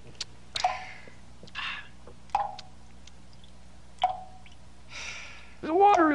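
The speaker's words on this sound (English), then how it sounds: "The water is dripping. Turn off the faucet." Several sharp, isolated plinks from a dripping faucet spaced irregularly, with a brief voice sound near the end; quiet background otherwise.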